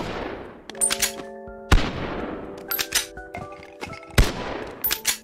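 A massive, oddly built weapon in Bonelab fires several loud, separate shots a second or so apart, each with a ringing, metallic decay and clanking between them.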